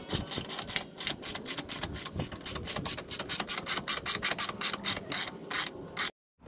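A lock nut being tightened onto a Toyota Tacoma body mount bolt with a ratchet, giving a fast, close series of clicking strokes in uneven bursts that stop abruptly near the end, with no talking.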